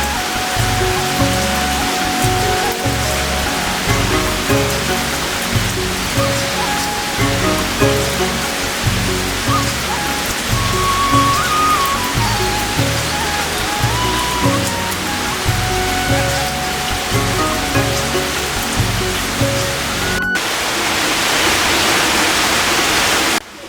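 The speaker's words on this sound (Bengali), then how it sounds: "দিগন্ত জুড়ে মাঠ আর তারই মাঝে বৃষ্টি হচ্ছে।" Heavy rain pouring over open village fields, a dense continuous roar of drops that stays loud and steady throughout, with no voices.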